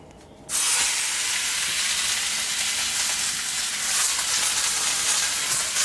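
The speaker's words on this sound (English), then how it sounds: "I'm searing it for flavor" Food searing in a very hot, smoking pan while taquitos are made for dinner, an abrupt loud burst of sizzle and hissing that keeps going steadily at close range, with no voices.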